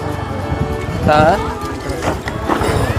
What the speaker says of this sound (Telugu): అదిగో అక్కడ వెళ్తున్నాయి చూడు ఆవులు